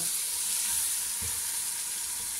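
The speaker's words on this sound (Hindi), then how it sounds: "इसको मैं अच्छे से मिक्स करूँगा" Steady frying sizzle with soft stirring scrapes as aloo matar pulao ingredients, potatoes, peas, dry coriander, chicken powder and salt, are mixed in a frying pan; continuous and close, no talking.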